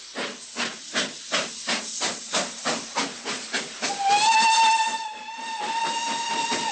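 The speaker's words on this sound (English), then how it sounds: "They were soon thudding away down the track with a trail of white smoke and a whooping whistle" A steam locomotive chuffs in a steady rhythm of loud exhaust beats, then a bright, sustained whistle sounds over a continuous hiss of steam as the engine gets under way.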